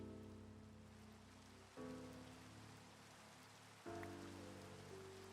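Steady rain falls in a video game, a dense even hiss of drops hitting surfaces that runs through the whole stretch, with a low tonal game soundtrack underneath that shifts chords twice; no one speaks.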